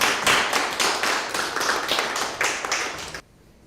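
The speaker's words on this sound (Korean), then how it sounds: "몇 사람 안 되는데 우리끼리 박수 쳐보니까" A handful of people at an MOU signing ceremony in Daegu clap together, the individual claps distinct and rhythmic at close range, then stop abruptly near the end.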